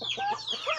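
A chicken clucks in a quick run of short, squawky calls, close and fairly loud.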